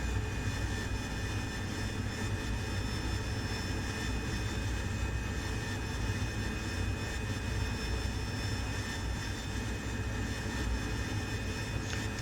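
Steady, loud engine roar of an AV-8B Harrier jet in the DCS World flight simulator, a constant broadband drone with faint high whine lines held at high power through a slow hover landing, with no talk.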